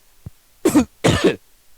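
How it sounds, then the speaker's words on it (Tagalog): Two harsh coughs close up, preceded by a small throat click, each a short forceful burst with a brief pause between. "ako inuubo na rin"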